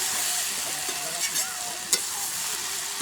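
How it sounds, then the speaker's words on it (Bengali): Eggs and eggplant frying together in a pan, a steady sizzle with faint scrapes of stirring and a couple of brief clinks, close and continuous with no talking. "বেগুনি দিয়ে নেড়ে দিচ্ছি, বেগুন দিয়ে ডিম দিয়ে নেড়ে দিচ্ছি"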